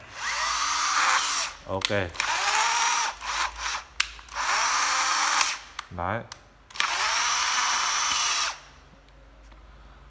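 A Makita cordless drill whines through several runs, with pitch rising as it spins up and dropping as it winds down. It switches from a slow setting to a faster, higher-pitched one, with brief speech between bursts.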